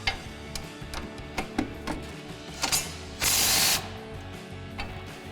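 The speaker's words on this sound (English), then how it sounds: "we need to take the two main strut mount bolts out of the bottom. They are an 18mm socket." A ratchet wrench with an 18mm socket clicks in short bursts while loosening the strut mount bolts on a 2005-2010 Ford Mustang front suspension, with scattered metallic taps and a brief louder hiss near the end.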